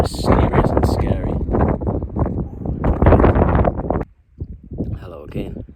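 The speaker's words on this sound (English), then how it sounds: "It's so windy." Strong wind buffets the microphone on a fog-covered mountain ridge near Helvellyn, a loud, rough roar that surges and drops, with a person talking over it for most of the stretch.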